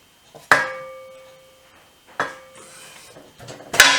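Three sharp knocks as a hand hammers pieces into place on a BSA 350 motorcycle, spaced apart, each ringing briefly with a metallic clatter, close and loud.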